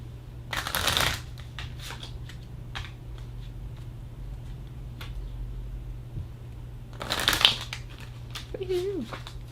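Tarot cards shuffled and pulled from the deck, two short bursts of riffling near the start and again near the end, with a steady low hum and quiet handling sounds in between.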